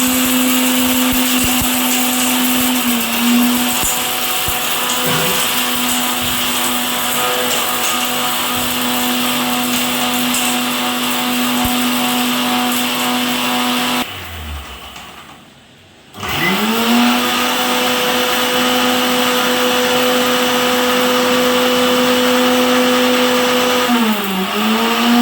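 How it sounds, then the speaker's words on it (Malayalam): A mixer grinder whirs loudly at high speed while grinding Arabian mandi masala, cuts out for about two seconds, then restarts and runs on steadily. "അപ്പൊ അത് മിക്സിയിൽ വെച്ച് ഞാൻ പൊടിച്ച്"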